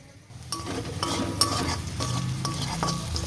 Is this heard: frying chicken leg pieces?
yes